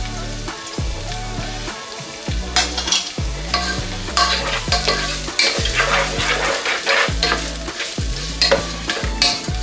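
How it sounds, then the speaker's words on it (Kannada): Chopped onions and curry leaves sizzle in oil in a pan, and a spoon scrapes through them in regular, repeated stirring strokes up close throughout. "ಈರುಳ್ಳಿ ಗೋಲ್ಡನ್ ಬ್ರೌನ್ ಬರೋ ತನಕ ಇದನ್ನ ಫ್ರೈ ಮಾಡ್ಕೋಬೇಕು."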